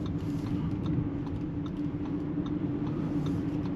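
An Audi Q8 55 TFSIe plug-in hybrid with 381 hp, beige Vicugna paint, drives on a road in electric mode, giving a faint, steady low road rumble with light creaks and no engine note.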